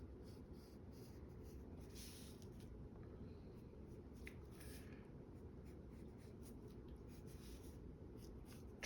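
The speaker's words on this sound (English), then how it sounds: "So I'll just draw this second piece here." A pencil scratches steadily on paper while sketching a design, a faint continuous scratchy texture with soft strokes, close and quiet with no talking.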